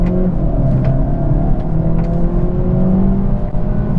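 Inside a Volkswagen Golf GTE plug-in hybrid, the 1.4 TSI petrol engine and its sound generator give a loud, steady rising drone under hard acceleration, continuous and close, with no talking.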